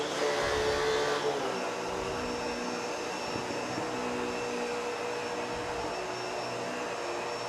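Bissell pet hair vacuum cleaner running on carpet, a loud continuous motor whine and airflow roar that holds steady and close throughout, with a slight shift in tone near the start.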